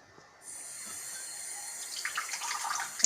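Seaco Cappuccino Royal coffee machine running clean water through its system, a steady hiss of flowing water that grows into louder splashing and dripping, close up with no talking.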